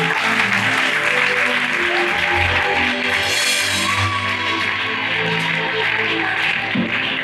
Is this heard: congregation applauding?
yes